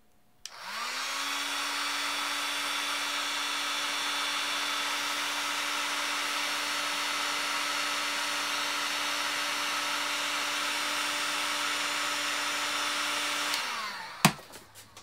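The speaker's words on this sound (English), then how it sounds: "I'm going to use the heat gun to heat it up, because it can go up to 125 degrees" A handheld heat gun blows hot air onto a small LM75A temperature sensor board, a steady loud whirring roar that rises in pitch as it starts, holds for about thirteen seconds, then spins down and ends with a click.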